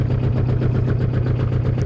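An old mahogany boat's engine idles at sea with a steady, even low chug, close and alone with no talk.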